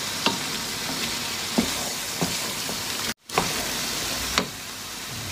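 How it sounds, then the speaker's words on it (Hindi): Mutton for Pathani namkeen gosht fries slowly in oil, giving a steady close sizzle with occasional stirring clinks and scrapes of the pan, no talking. "अब इसे आहिस्ता आहिस्ता भूनूंगा जब तक ये अपना गोश्त जो है ना ऑयल अपना छोड़ता नहीं है"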